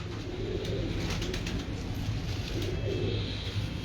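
Pigeons cooing in a loft, low soft coos repeating steadily against a dense, continuous background of birds at close range.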